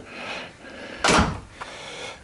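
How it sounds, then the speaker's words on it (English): A door swings shut indoors in a single solid thunk roughly midway, preceded by soft rustling and followed by a lighter knock, all fairly close and quiet. "Shut this door."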